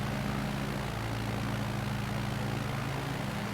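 A propeller airplane engine drones steadily during a climb in a flight simulator, a constant loud hum with a low throbbing tone and no talk.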